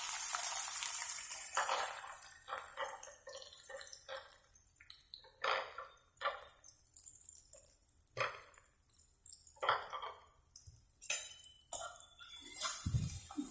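About 200 grams of chopped onion goes into hot oil with browned cumin seeds for malai paneer. A close, crackling sizzle comes through with clinks and uneven bursts of spattering, and there is no talking.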